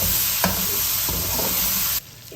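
Spicy brinjal thokku sautés in a pan with a loud, continuous close sizzle and a couple of stirring knocks before the sound drops away abruptly near the end.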